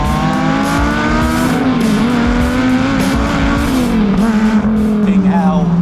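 Performance cars driven hard on a road, engines revving loudly and continuously with rising and falling pitch as gears change, close and dominant throughout.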